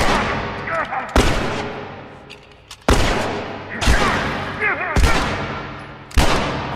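Enemy gunfire in The Last of Us, a series of loud close shots spaced about a second apart, each cracking then decaying into echo, with background game sounds between.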